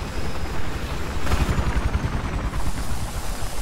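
Military helicopter in the Battlefield 4 video game, its rotor wash a steady, loud, dense roar through the whole clip with possible gunfire thumps mixed in, no talk.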